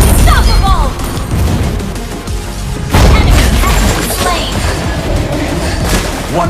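A turret blows up in the Mobile Legends battle arena with loud, crashing booms, including a heavy hit near the midpoint, buried in dense, continuous game noise and effects throughout.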